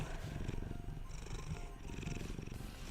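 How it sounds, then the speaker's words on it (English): A house cat purrs close to a microphone, a steady low rhythmic rumble running continuously with the animal's face brushing near the mic. "Can you hear the kitty purrs?"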